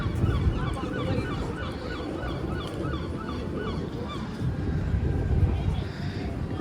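A crowd of seagulls around rubbish bins in the seaside town of Exmouth call repeatedly, with overlapping squawks and yelps layered over a steady outdoor rumble. The calls are moderately close and continue throughout.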